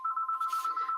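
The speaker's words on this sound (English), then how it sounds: "That's my phone." A mobile phone rings with a steady, pulsing electronic tone, loud and close, repeating in quick even beats with no talk over it.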